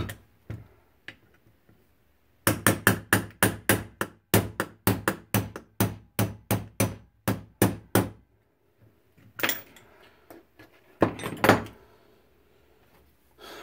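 A small hammer taps a 1/16 pin punch to drive out the rear sight pin of an M4 airsoft gun, giving a quick run of about fifteen sharp, evenly spaced metallic taps, followed by a few scattered knocks.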